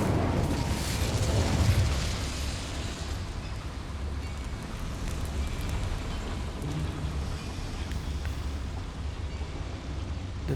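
An Incendio fire spell cast in a Harry Potter video game: a loud roaring burst that swells over the first two seconds, then settles into a steady, broad crackling rumble lasting the rest of the clip, with no talking.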